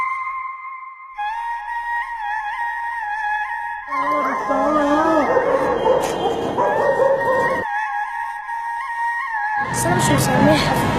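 Street dogs barking, yipping and whimpering in a city street, several animals close by, with howl-like whines rising and falling over a steady background hum; voices talk at moments.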